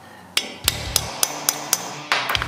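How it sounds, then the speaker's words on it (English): A hammer strikes a top setting die several times to set a grommet in leather armor, sharp evenly spaced metallic taps close up, with a final quicker flurry of blows. "Find my top die here, and basically just give that a few swats to tighten it down."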